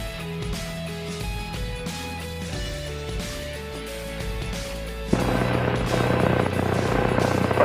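A T-6 Texan aircraft engine drones steadily in flight, a loud continuous propeller and engine roar that fills the cabin and grows noticeably louder and rougher partway through as the plane lowers its nose into a descent.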